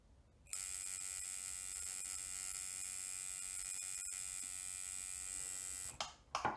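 A tattoo machine runs on its power supply at about 4 volts, giving a steady, loud electric buzz that starts abruptly, holds for several seconds, then breaks off into a few sputtering bursts.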